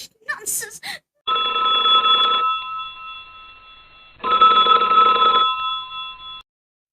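A telephone rings twice in a radio play, each a long steady electric bell burst about a second long with a pause between, loud and close, after a brief spoken voice at the start.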